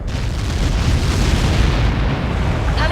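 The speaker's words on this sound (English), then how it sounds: "How many got caught in that explosion?" A large explosion in the aerial combat game Ace Combat 7 rumbles loud and sustained for several seconds as one broad, dense blast roar with no voices, fading slightly at the end.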